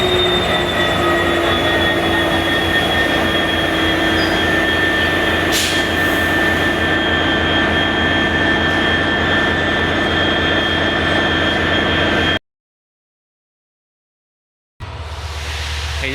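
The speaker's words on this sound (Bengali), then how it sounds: "এই যে চলে আসছে ট্রেন, অতি দ্রুত চলে আসছে আমার ক্যামেরার কাছে" A train runs steadily near Chilahati railway station, a loud continuous rumble of wheels and wagons with rhythmic clatter and a brief high squeal midway, cutting to near silence before a lower engine rumble returns.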